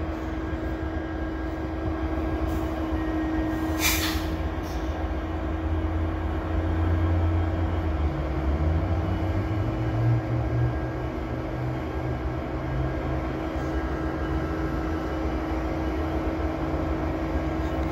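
Freight train locomotives, CP SD70ACU units, rumble steadily nearby at Dorval with a low droning hum that shifts in pitch, broken briefly by a short burst of noise.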